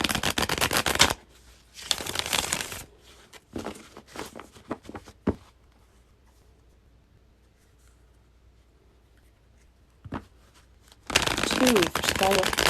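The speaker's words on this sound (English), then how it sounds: "I'm going to keep shuffling and then we'll get started." Tarot cards being shuffled by hand, crisp riffling bursts at the start, in the middle and again at the end, with quieter handling and pauses between.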